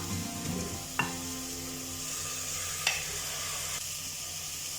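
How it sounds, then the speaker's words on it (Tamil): Chicken sizzling and frying in a spiced pan for Tamil-style chicken salna, with a steady hiss of oil and a couple of sharp clinks as it is stirred. "இந்த சிக்கனை ஒரு 5 நிமிஷம் சிம்ல வச்சு நல்லா மிக்ஸ் பண்ணிட்டே இருங்க"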